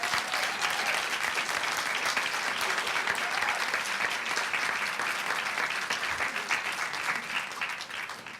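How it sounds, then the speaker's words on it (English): A school board meeting audience of the San Bernardino City Unified district breaks into applause, a dense, steady burst of clapping that holds evenly throughout and fades slightly at the end. "please give him a big San Bernardino City Unified round of applause"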